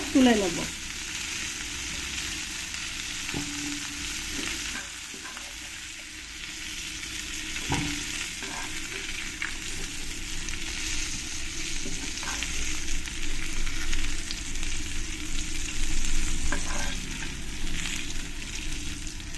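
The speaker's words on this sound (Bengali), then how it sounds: "আমি ভালো করে ধুয়ে পরিষ্কার করেই ফুলকপিগুলোকে একটু ফ্রাই করে নেব" Cauliflower florets and potatoes fry in mustard oil in a pan, giving a continuous close sizzle with occasional stirring scrapes and clinks that grows slightly louder toward the end.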